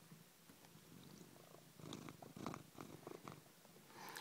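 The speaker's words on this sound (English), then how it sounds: "but they're purring" Cats purr close to the microphone, a soft, continuous rumbling with rhythmic swells, faint and intimate with no talk over it.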